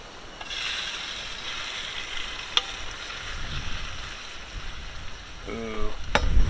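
Chicken frying in a pan outdoors, a steady soft sizzle running throughout, with an occasional clink of a utensil and a voice briefly heard near the end.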